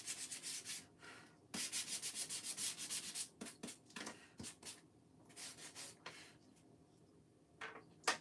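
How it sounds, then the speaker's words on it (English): A small electric sander works over wood in bursts of steady buzzing scrub, stopping and restarting, with light handling knocks between passes; fairly quiet and close, no talking. "Where's my little sander?"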